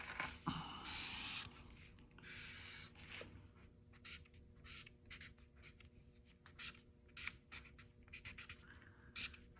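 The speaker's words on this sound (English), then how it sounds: "Drawing a quick kite for you." A pen scratches across paper while drawing a kite, faint bursts of short scribbling strokes in an uneven rhythm, close by in a quiet room.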